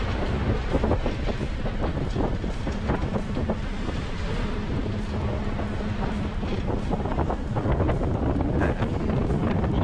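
Heavy wind buffets the microphone continuously, with a dense rushing wash of pouring rain, loud and unbroken throughout.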